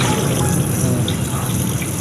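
Tap water running steadily into a sink while dishes are rinsed at home, a continuous close gushing splash without pause.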